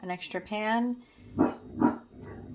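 A house dog barks twice in quick succession, close by, right after someone speaking indoors.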